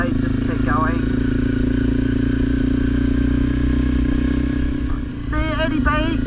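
An adventure motorcycle on an Australian coastal ride toward Townsville, its engine droning loud and steady with brief rising whines, steady wind noise over it and a short dip near the end.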